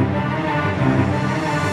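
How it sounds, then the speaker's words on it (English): A homemade reverse cymbal built in Logic Pro X swells steadily with reverb, a sustained washy rise that fills the short clip at a fairly loud, even level without any voices. "So I built my own reverse cymbal."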